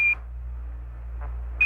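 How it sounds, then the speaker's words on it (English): Apollo lunar module 1201 program alarm during the lunar descent, two short high-pitched electronic beeps, one at the start and one at the end, over a steady low radio hum. "Roger, 1201 alarm."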